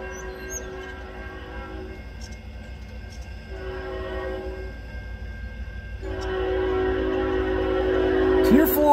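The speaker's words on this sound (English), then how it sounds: "Last train for today, another northbound underway." A CN freight train horn sounds in long blasts at a crossing in Ladysmith, Wisconsin, while the rumble of the passing northbound train builds and grows louder toward the end.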